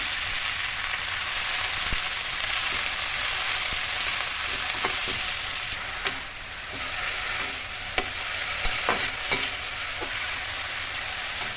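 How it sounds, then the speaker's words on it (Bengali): Shrimp and leafy greens fry together in hot oil with a steady, close sizzle, broken by a few light clicks from stirring. "চিংড়ি ভাজা হওয়ার পরে সেই তেলে এই যে শাকটা দিয়ে একসঙ্গে ভালো মতো এই তেলে নিলাম"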